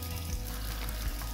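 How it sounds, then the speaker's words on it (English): Burgers frying in a pan beside a creek produce a loud, continuous sizzle with crackling spatter and an occasional soft scrape of stirring, close up and with no talk. "I'm cooking some burgers"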